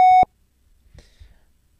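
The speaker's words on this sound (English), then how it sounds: "we're going to add in a fairly long sine wave" A pure sine wave tone from the PICO-8 waveform editor sounds as a single clean, bell-like beep for about a quarter second, then drops to near silence with a few faint clicks.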